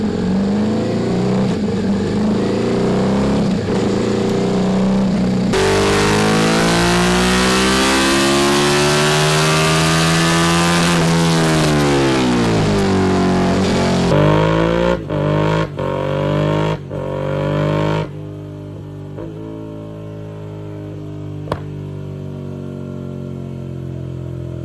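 A racing motorcycle engine on a dyno during a compliance test at Donington Park, revving loudly with long sweeping rises and falls, then cutting back to idle and short blips before falling quiet.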